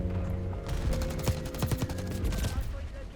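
Machine pistol fire in a Call of Duty match, rapid bursts of shots crackling close by over a steady layer of game sound, with some speech-like mixing underneath.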